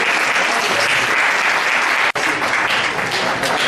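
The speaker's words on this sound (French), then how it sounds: "On va maintenant pour les applaudissements." Loud, dense audience applause at an excellence-day ceremony, steady clapping from a large crowd that cuts off sharply for an instant midway before resuming.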